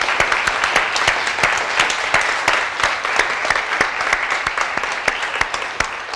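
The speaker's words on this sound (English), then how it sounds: "So maybe a round of applause for them." A debate audience gives a sustained round of applause, with many sharp individual claps layered into a loud, even, continuous patter that holds for several seconds.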